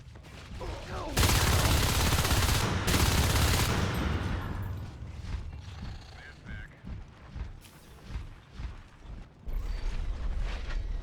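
Sustained gunfire in the shooter game Natural Selection 2, a dense loud burst of automatic fire lasting a few seconds, followed by scattered clanks and mechanical noises as a voice talks over the action.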